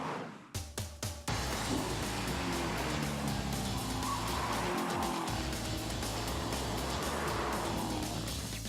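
2014 Chevrolet Corvette Stingray drives hard with a loud, close engine roar and tire noise, opening with a few sharp bursts before settling into a sustained full-throttle run.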